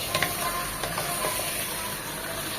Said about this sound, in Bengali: ঘিয়ের সাথে পেঁয়াজের সাথে চিকেনটা খুব ভালোভাবে নেড়ে চেড়ে মিশিয়ে ভেজে নেব